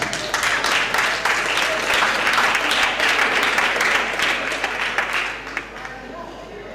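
An audience at an intercontinental gathering of lay members bursts into sustained, dense applause that holds steady for several seconds and then tapers off toward the end, with a voice faintly present beneath the clapping.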